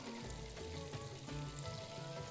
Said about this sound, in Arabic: هذا احنا نبي نقلب السمك